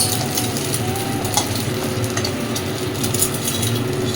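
A duck egg frying in a pan in a home kitchen, giving a steady, close sizzle with a few faint clicks and scrapes and no talking.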